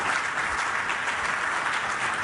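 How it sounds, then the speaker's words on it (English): Audience applause for conference panelists fills the room, a steady wash of clapping from many hands that continues evenly throughout. "Please join me in giving them and the organizers a round of applause"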